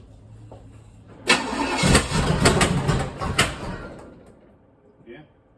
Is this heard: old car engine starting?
yes